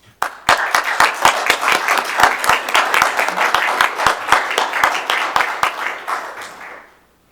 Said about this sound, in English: allow our audience to give a nice round of applause for that